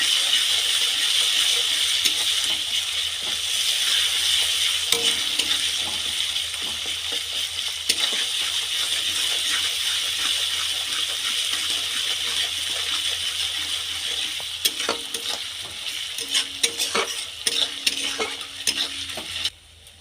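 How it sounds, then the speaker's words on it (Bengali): Garlic and ginger paste frying in a pan for a soybean and egg dish hisses steadily at close range while a spoon scrapes and clinks in bursts of stirring, busiest toward the end. "রসুন বাটা এক চামচ আদা বাটা এক চামচ এটা ভালো করে কষিয়ে নেব"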